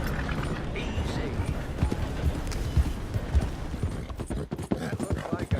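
Horse hooves clip-clop steadily in Red Dead Redemption 2, a rhythmic near trot mixed with game voices talking over the hoofbeats and faint tack rattle.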